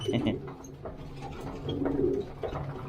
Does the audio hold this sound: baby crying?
no